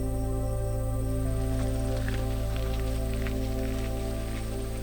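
Steady rain falls in misty Bavarian forest along a hiking trail, a continuous soft patter under a constant low hum, with no talk.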